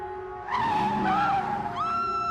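A car skids with a sustained tonal tire squeal that swells loud and holds for about two seconds; the vehicle driven into a man standing in its path, no voices.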